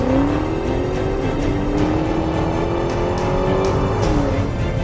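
A 2020 Tesla Model 3 Performance launches hard from a standstill, giving a loud, steady electric-motor whine that climbs in pitch over a constant rush of road and wind noise.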